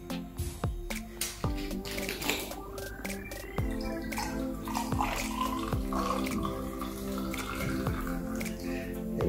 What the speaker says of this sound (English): I'm gonna top it up with 100 ml of soda.